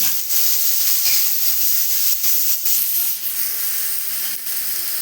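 Small-cut chopped onions hit hot oil in a pan for a beans palya, giving a loud, steady, close hiss and sizzle that holds throughout without pause or voices.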